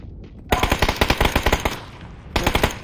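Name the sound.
AK gunfire in a video game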